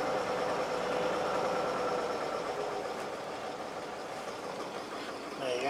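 A car engine idles on its own shortly after a cold start, a steady low rumbling hum heard at moderate distance with little variation in rhythm.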